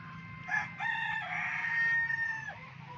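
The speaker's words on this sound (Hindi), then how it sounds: "देख रहे हैं देसी मुर्गियाँ और मुर्गे और बतखें" Desi chickens and roosters on a farm, with a rooster's drawn-out crow ringing clearly over a low background hum at moderate distance, with no voices.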